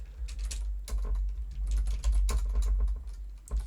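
Someone types an SQL query on a computer keyboard, a steady run of close, crisp key clicks with small uneven pauses and no voice.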